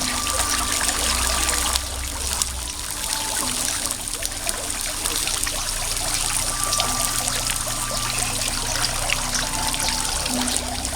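Steady flowing, trickling water from a fountain, continuous and fairly loud, with a low hum beneath and no voices.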